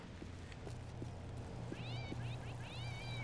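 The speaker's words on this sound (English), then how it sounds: "All I hear is cats." Cats meow several times in quick, faint, rising cries over a steady low ambient hum and scattered soft taps in the video game Postal 2.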